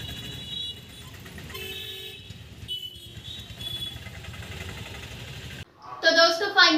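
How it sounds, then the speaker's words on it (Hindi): Car horns honk in busy Dehradun traffic. Short toots and beeps sound over a constant rumble of engines and street noise, with a sharper cluster of honks near the end. "गाड़ी की पे पे हॉर्न"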